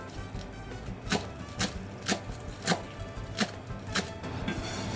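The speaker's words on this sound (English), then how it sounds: "First, finely chop the green onions." A knife finely chopping green onions on a cutting board, a steady series of crisp close taps about half a second apart over a quiet room.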